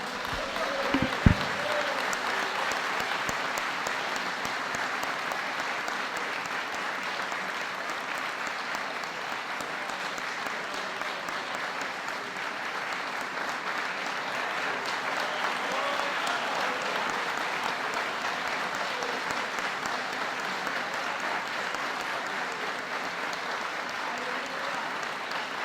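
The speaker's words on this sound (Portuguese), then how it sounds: "Aleluia, aplauda o nome do Senhor." Sustained applause from a church congregation during a Protestant Reformation 500th anniversary service, a steady dense wash of clapping that carries evenly for the whole stretch with no talk over it.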